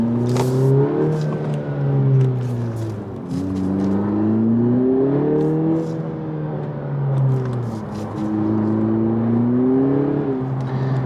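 A 2020 Honda Civic Si with a slipping clutch revs up and down repeatedly, engine pitch rising and sagging in waves as it cruises, loud and continuous from inside the car.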